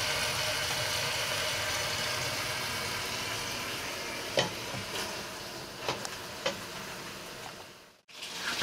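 Veal paupiettes browning in a pan, a steady, soft sizzle of frying with a few clicks and scrapes of stirring toward the end, faint and close, with no voices.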